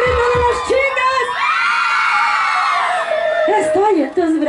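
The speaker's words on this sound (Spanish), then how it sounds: "¡Un grito de las chicas!" Girls and women in a crowd at a festive music event in Huamachuco let out a loud, sustained shout and cheer, rising into a long collective scream with whoops and excited voices over the noise.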